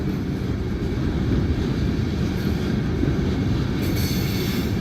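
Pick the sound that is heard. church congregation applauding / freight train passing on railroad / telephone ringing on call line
freight train passing on railroad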